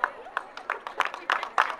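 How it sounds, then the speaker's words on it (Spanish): Scattered hand claps from an audience at a chilenas dance contest in Ometepec, sparse and uneven rather than a full ovation, heard under a speaking voice over a loudspeaker. "Los despedimos con bonitos aplausos"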